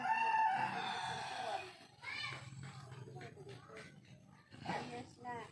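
A rooster crows once at the start, fairly near, with a drawn-out call, then people and children talk and play in the background.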